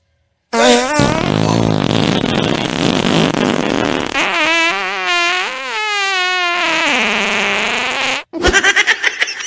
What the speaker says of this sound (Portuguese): Peido de magro.